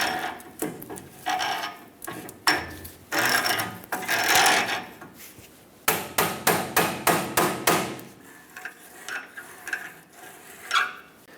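Metal strikes ring out as a pry bar is hammered into a tie rod adjusting sleeve on a 1999-2025 Ford E-350 Super Duty. A rapid series of close, loud blows comes in bursts, with a quicker run of even hits near the middle.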